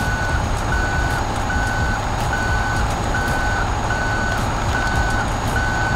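A twelve-wheel Chinese truck in the video game SnowRunner reversing, with evenly spaced electronic backup beeps repeating over a loud, steady engine drone.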